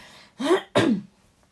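Two short, harsh coughs in quick succession, close and fairly loud, with quiet in between and after.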